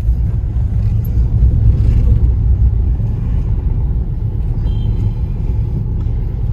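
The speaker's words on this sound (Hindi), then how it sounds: "आज गाड़ी लेके जाना पड़ा है, बड़ी गाड़ी लेके।" Loud, steady low rumble from inside a big car driving on a road in Surat, with continuous engine and road noise and no talk.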